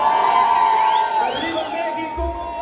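A concert crowd of women at a live Latin band show in a Bronx venue in New York shouts and cheers loudly, with sustained high screams and whoops that fade slightly near the end.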